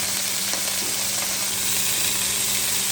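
Fish head frying in hot oil in a home kitchen, with ginger used beforehand, gives a steady, close, dense sizzle with crackling spatter that holds without pause for the whole stretch.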